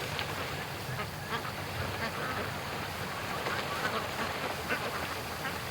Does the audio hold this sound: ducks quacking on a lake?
yes